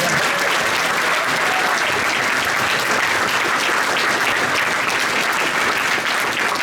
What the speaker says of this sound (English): And I just want to give another big round of applause to Sharon Darby as well.